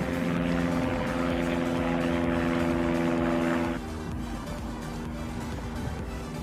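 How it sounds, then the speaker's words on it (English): A small propeller plane drones overhead above Santa Monica Beach, a loud, steady engine hum with strong tonal lines that drops in level partway through as it moves away, over a constant background roar. "Little plane overhead."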